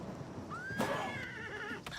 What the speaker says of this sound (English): Oh my word, this horse.